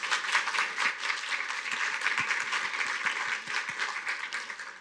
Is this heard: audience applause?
yes